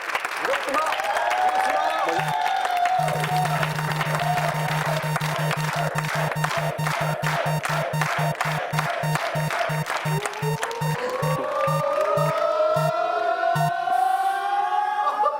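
A French game show audience claps and cheers under the rapid ticking of a spinning arrow that gradually slows, with voices calling out over the noise.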